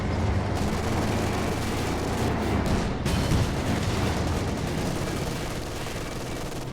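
A special ability shot fired from an AEC armoured car strikes a Panzer IV in Company of Heroes 2, amid dense, loud battle noise of gunfire and blasts, with one sharp break near the middle.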